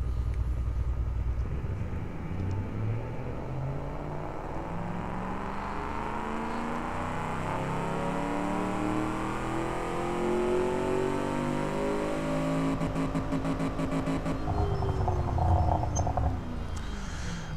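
A V8 engine in the Automation car-building game revving up through the range toward 6,500 RPM, a steady loud synthetic engine tone with rising harmonic sweeps, then buzzing near the top, no voices.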